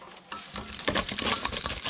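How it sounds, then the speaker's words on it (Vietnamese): Field crabs being stirred into batter for frying, a wet, sticky clatter of mixing with soft patters and knocks against the bowl, close and fairly busy, with no speech. "Rồi đem trộn cua vô bột cho"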